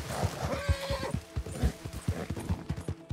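In the Red Dead Redemption 2 video game, a horse's hooves clop in a quick, rhythmic gallop over a whinny, close and clear.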